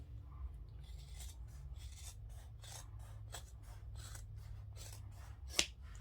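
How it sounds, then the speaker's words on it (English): Scissors trimming the fabric seam allowance on a sewn billfold wallet, a quiet close series of rhythmic snipping cuts over a low background hum, with one sharper snap near the end. "I'm going to trim this seam allowance down a little bit."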